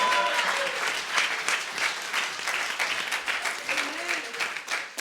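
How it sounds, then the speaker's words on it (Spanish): Church congregation applauding steadily for several seconds, a dense roomful of clapping with faint voices mixed in. "Denle un aplauso a Jesús."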